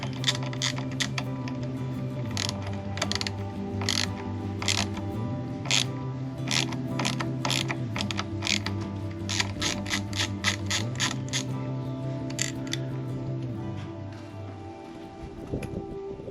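Close, quiet mechanical clicking and ratcheting as a screw is worked out of the bottom housing on a Harley Softail Deluxe, with rapid irregular ticks over a low steady hum.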